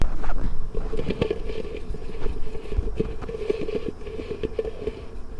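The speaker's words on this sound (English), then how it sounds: "Here's the inside of the transfer case, and let's see if the mic will pick this up." The opened transfer case of a Ford F150, exposed down to the rear output bearing, gives a steady rattling hum laced with rapid irregular clicks and knocks, close and continuous throughout.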